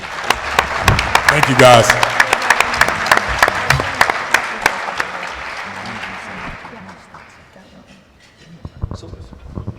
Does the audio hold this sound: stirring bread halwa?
no